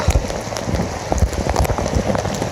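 Heavy rain shower pouring at a beach, a dense steady hiss of drops pattering on surfaces with irregular close splats, loud and unbroken throughout.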